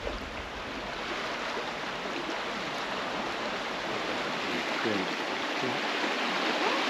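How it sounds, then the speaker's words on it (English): Water swirls in whirlpools around a small rock, giving a steady, moderately loud rushing and gurgling wash with no break. "Just been watching the whirlpools in the water around this little rock here."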